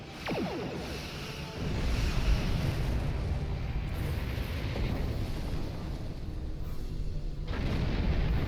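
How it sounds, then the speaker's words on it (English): Cannon fire striking a starship in the space game Star Trek Online, heavy booming impacts and rumbling blasts rolling on continuously under a thick layer of noise, with a brief swept tone at the start. "That is a lot of cannon fire at my ship."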